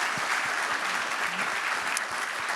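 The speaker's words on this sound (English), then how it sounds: "One more round of applause." A crowd at a startup innovation championship demo day gives another round of applause, dense continuous clapping with a few sharper individual claps standing out.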